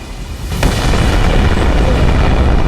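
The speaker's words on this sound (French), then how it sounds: "il va y avoir une grosse explosion" A massive video game explosion from which a colossal titan emerges booms with a sharp crack and then a long, loud rumbling roar that fills the rest of the moment.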